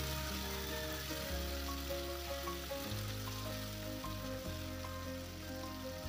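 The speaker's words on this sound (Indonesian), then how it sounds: "ini aku tumis bagian tomat dan bawang merahnya dulu" Sliced tomato and shallots sauté in a pan for sambal terasi, a steady close sizzle and bubbling hiss throughout, with occasional soft stirring bumps and no talking.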